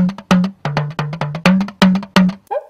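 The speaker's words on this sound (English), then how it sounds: "This here is a talking drum, which is a category of drums from West Africa." A West African talking drum struck in a quick sequence of about ten beats, each note bending in pitch like a spoken syllable, close and loud.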